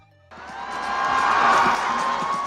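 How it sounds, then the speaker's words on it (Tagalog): Crowd at the Capitol Arena in Isabela erupts into loud cheering and applause during the Dyosa ng Isabela 2025 pageant, a sudden dense roar that swells and holds strongly. "Dumagundong ang The Capitol Arena sa mga hiyawan at malalakas na palakpakan."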